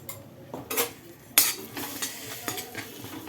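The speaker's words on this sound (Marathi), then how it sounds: "आता ते व्यवस्थित मिक्स करायचं आहे" Cumin, mustard seeds and turmeric stirred into melted butter in a pan, a spoon scraping and clinking against the metal in irregular strokes over a faint sizzle, with one sharp clank partway through.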